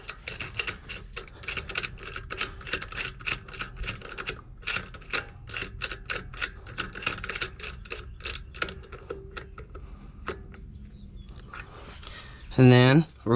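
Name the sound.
tightening a wheel lug nut while changing a tire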